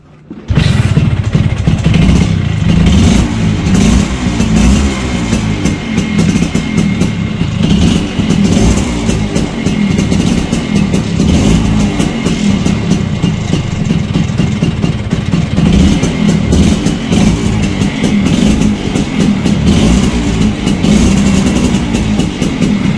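A Yamaha XS750 motorcycle, on choke, runs loud and close for over twenty seconds, a steady throbbing idle with rough pulses and blips of revving throughout.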